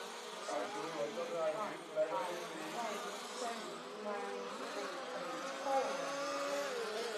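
Small 4WD electric RC cars sling back and forth through S-bends during a European championship main final, a continuous buzzing, insect-like whine rising and falling over steady track ambience as the cars carve the turns.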